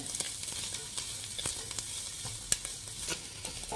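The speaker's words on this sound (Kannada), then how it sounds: "ಚೆನ್ನಾಗಿ ಫ್ರೈ ಮಾಡಿ ಈರುಳ್ಳಿನ" Onions frying in a pan for hotel-style egg noodles give a steady, close sizzle, with stirring scrapes and small clicks scattered through it and one sharper knock near the middle.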